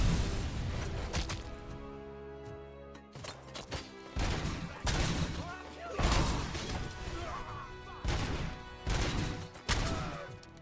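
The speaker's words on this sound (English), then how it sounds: "the enemies throw grenades quite frequently to stop you getting bogged down" Grenade explosions and gunfire in the video game Robocop: Rogue City, loud repeated booming blasts and shot bursts at irregular intervals, with a voice mixed in among the action.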